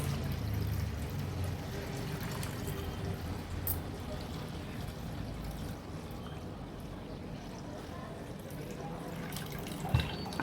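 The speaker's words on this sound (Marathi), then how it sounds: "हा एक बोल घेते आणि अगदी अलगज हाताने आपल्याला हे वरचं पाणी काढून घ्यायचं आहे" Water gently poured off soaked rice flour batter into a bowl, a soft, steady trickle and pour running quietly for several seconds with a faint clink near the end.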